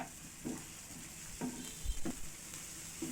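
Onions with garlic paste frying in a pan, quietly sizzling while a spoon stirs them in several soft, spaced strokes, with a low thump partway through.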